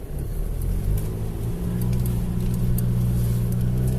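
A Ford Ranger's engine revs loud and close as the truck climbs over an off-road obstacle with its tyres at full pressure, a steady droning roar that holds and builds slightly, with no voices.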